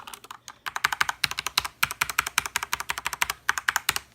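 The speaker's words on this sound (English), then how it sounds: "Corsair K70 Mark II is the keyboard with Cherry MX Browns." Typing on a Corsair K70 Mark II mechanical keyboard with Cherry MX Brown switches: a close, steady run of crisp keystroke clicks with a brief pause near the start and no talking.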